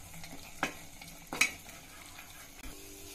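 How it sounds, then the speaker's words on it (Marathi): Onion, ginger and garlic paste frying in oil and butter for dhaba-style shahi paneer, a soft steady sizzle broken by a couple of sharp spoon clinks against the pan, no voices. "आपण लसूण, अद्रक आणि कांद्याची पेस्ट फ्राय करून घेतली आहे"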